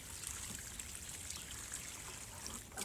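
Leftover beet soaking water pours steadily with a faint, continuous trickling splash, quiet and close, with no talk.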